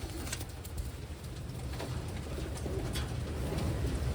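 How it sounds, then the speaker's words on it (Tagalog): Wantai pigeons cooing softly at close range, low repeated coos under a constant faint background rumble, with no talk. "Ito siya mga kalapatids."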